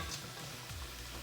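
Onions cooking in a pot with a pound of carrots tipped in for carrot ginger soup, a steady low sizzle and frying hiss with a soft stirring shift partway through.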